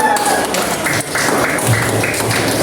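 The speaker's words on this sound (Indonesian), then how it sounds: "Tepuk tangan untuk kita." Classroom group claps together in a dense, steady burst of applause lasting a couple of seconds, fairly close and loud, with a voice speaking over it.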